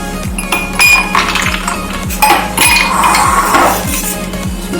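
Ice cubes dropped into a glass for a green muskmelon milkshake clink and clatter in a quick series of bright, close hits over a steady low hum.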